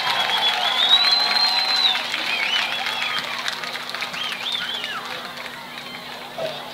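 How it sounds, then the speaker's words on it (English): Crowd applause and scattered cheers at a high school football game for a marching band, a sustained clapping wash from a large stadium audience with some shouts, fading slightly toward the end. "another round of applause for the Wesson Mighty Cobra Band?"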